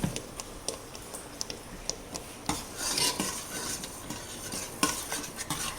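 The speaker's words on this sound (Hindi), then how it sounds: "इसको हम अच्छे से मिला लेंगे" Spoon stirring milk and cream in a jar, giving rapid clinking and scraping taps with a busier burst of stirring midway, close and fairly loud, with no talk.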